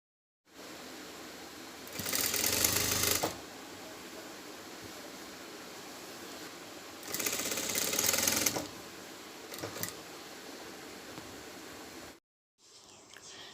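Sewing machine stitching a churidar lining, running in two steady whirring bursts of about a second each against a constant background hum, then a brief short run near the end.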